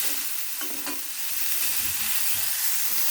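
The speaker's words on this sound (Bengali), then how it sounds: "দিয়ে ভালো করে নাড়াচাড়া করে নেব।" Chopped tomatoes frying in a pan and being stirred, a steady sizzle with soft scraping strokes of the spoon nearby and no voices.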